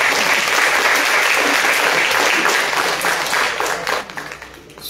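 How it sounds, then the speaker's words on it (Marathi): Loud, sustained audience applause in a packed hall, dense clapping holding steady for several seconds before thinning slightly toward the end. "स्मितासाठी जोरात टाळ्या झाला."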